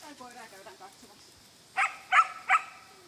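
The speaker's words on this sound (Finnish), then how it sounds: "Nyt sitä koiraa käydään katsomassa." A Lagotto Romagnolo dog lets out three short, close barks in quick succession, following a stretch of quiet talk.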